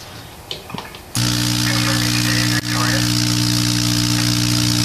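A Tesla coil switches on with an abrupt loud, steady electrical buzz and hum driving a plasma motor wire, after faint handling noises, briefly dipping once before resuming its constant drone.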